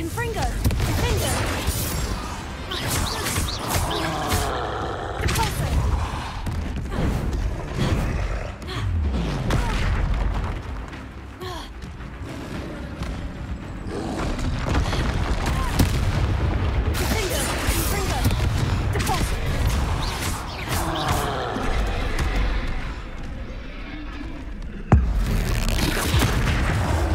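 Repeated booming Confringo fire-spell explosions in the video game Hogwarts Legacy, heavy blasts and crashes rolling almost continuously through dense combat noise with a voice calling out spells.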